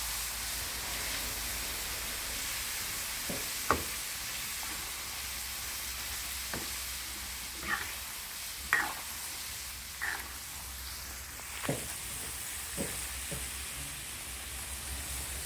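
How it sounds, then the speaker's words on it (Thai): Pork belly coated in batter for crispy frying sizzles steadily in hot oil, a continuous hiss broken by scattered pops and crackles. "เดี๋ยวจะ ทอดให้นานกว่านี้นิดนึง"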